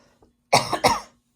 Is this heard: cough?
yes